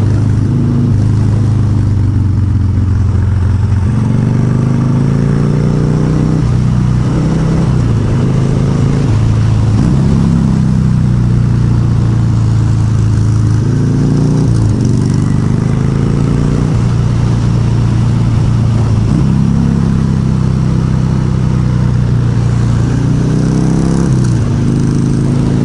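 A car engine drones loudly throughout on a winding Virginia mountain road, its pitch rising and dropping repeatedly as gears shift and the engine brakes on a descent.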